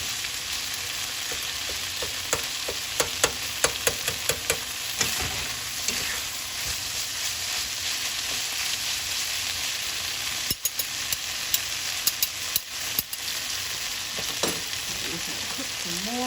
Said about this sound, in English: Cook some more, still on medium heat.